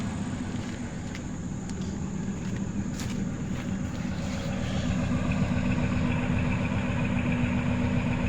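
A 1999 Ford F150 engine, recently treated with head gasket sealer, idles while warming up, with a steady, even low rumble heard close by and no talking.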